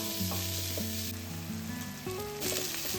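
Onion fries in a pan for a village-style chicken curry, giving a steady, close sizzle that runs the whole time alongside a stepping melodic tone.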